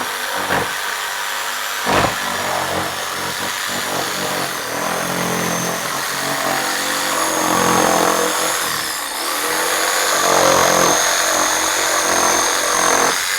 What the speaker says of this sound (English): all I'm going to do now is take my jigsaw and just basically, this stuff cuts just like wood.